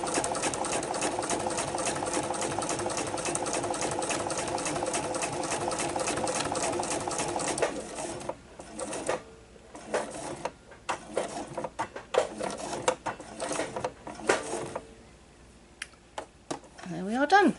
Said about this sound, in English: I'll come forward slowly and see if it will sew